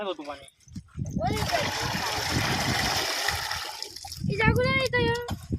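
Water drawn up and splashing at a village stepwell, a sustained wet splatter and pour running for several seconds between short bursts of nearby talk, with voices at both ends.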